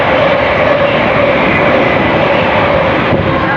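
A Class 700 electric train sweeps through Hendon station on the Midland Main Line, a loud, dense, steady roar and rush of wheels and motors close by, holding constant for a few seconds without talk.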